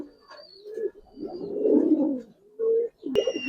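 Giribaz and coloured pigeons for sale coo in bursts close by, low throaty rolls rising and falling with short pauses, one sharp click near the end.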